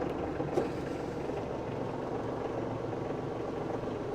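Kioti CK2610SE cab tractor with loader idling just after starting, a faint, steady low diesel hum with even vibration and no voices.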